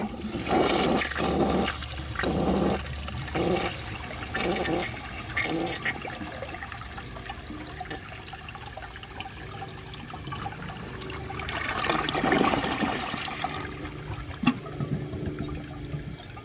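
A 1963 blue American Standard Cadet toilet runs its second flush, a loud rushing swirl with gurgling water that settles into a steady trickle and surges again near the end.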